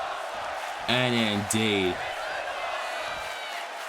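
Simulated arena crowd in the WWE 2K25 wrestling game, at a Raw show in Edmonton, Canada, during a Fatu versus Sami Zayn match, roaring steadily in the background while a commentator talks over it.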